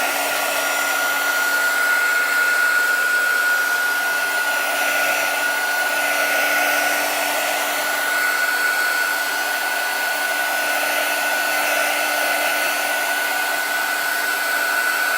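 A hair dryer blows steadily and loudly on chalk paste for the full stretch, a constant whirring roar with a high steady whine that never changes pitch or level. No one speaks.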